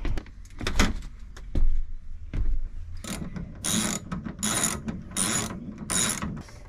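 Ratcheting mechanical clicks and clatters from a torque wrench being worked inside a Sprinter van conversion, starting with a few scattered knocks and settling into a run of repeated bursts, close and moderately loud.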